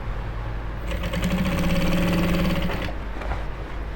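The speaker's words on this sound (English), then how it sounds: "Make sure that you centralize the footer of your machine at the midpoint of your biased material." A sewing machine top stitches Ankara fabric with a steady, close motor hum and rapid needle rhythm for roughly two seconds, fading back to a quieter idle.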